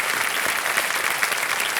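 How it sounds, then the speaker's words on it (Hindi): Studio audience applause on the Indian quiz show Kaun Banega Crorepati welcoming a young contestant, a dense, steady roar of clapping sustained throughout without speech. "एक बार फिर तालियों के साथ हम आपका स्वागत करते"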